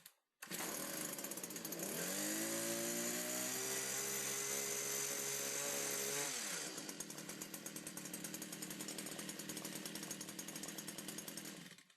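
A Stihl HS81R hedge trimmer's small engine pull-starts and revs loudly and steadily at close range; after about six seconds the note abruptly shifts to a rougher, buzzier idle once the choke is moved from fully choked to operating.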